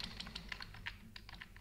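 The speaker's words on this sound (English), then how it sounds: "do changes using the keyboard." Computer keyboard typing in a software editing session: a quick, uneven run of crisp, close key clicks over a low steady hum, with no voices.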